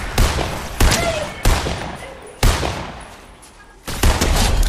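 Sniper rifle shots in Fortnite ring out as four or five sharp, loud cracks spaced about a second apart, each trailing off in a short echoing decay.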